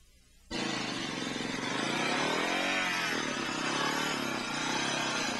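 A motorcycle engine kicks in abruptly and holds a loud, buzzing rev during wheelie riding, pitch wavering slightly as the throttle shifts, close and alone without speech.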